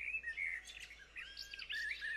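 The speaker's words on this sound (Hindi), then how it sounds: "भोर के पंछी एक लय सुर में चहक रहे थे" Dawn birdsong: several small birds chirping and trilling in quick, overlapping phrases, clear and fairly close over a quiet background.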